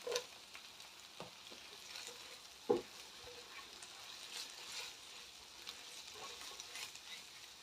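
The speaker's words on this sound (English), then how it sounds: "I'm also going to add in the sliced chilies" Sliced chilies frying in a pan for a red pepper and tomato masala: a faint, steady sizzle with scattered small pops and a few louder clicks, close but quiet, no voices.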